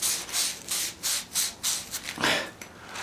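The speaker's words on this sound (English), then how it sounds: "we'll now use some sandpaper to smooth it off" Sandpaper rubs back and forth on a shelter pole connector, about eight close, rhythmic scraping strokes, each a gritty burst with brief pauses between them.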